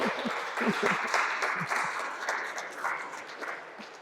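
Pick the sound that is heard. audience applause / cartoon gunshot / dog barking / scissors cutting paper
audience applause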